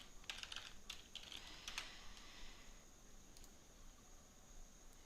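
Quick bursts of typing on a computer keyboard, faint light key clicks clustered in the first two seconds and then fading to near quiet.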